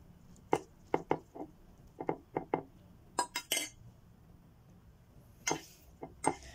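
Samyang instant noodles are stirred in a bowl, with a utensil making sharp, scattered clicks and clinks against the dish. The sounds are close and fairly quiet, with no talking.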